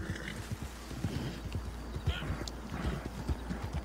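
A game horse built like a steam engine on legs trots with steady, busy clip-clop hoofbeats and a brief neigh. The sound runs over a low rumble, and a player talks faintly underneath.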